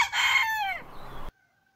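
A rooster gives a single loud, close crow of just over a second that ends abruptly, followed by near silence.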